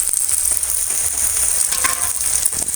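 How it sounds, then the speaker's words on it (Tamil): Garlic and onions sizzle steadily in a hot pan for an Aavaram Poo Kootu, a continuous crackling fry with a brief stirring scrape partway through. "வெள்ளைப்பூடை கொஞ்சம் நேரம் வதக்கிக்கலாம் வெங்காயமும் வெள்ளைப்பூடும் நல்லா வதங்கட்டும்"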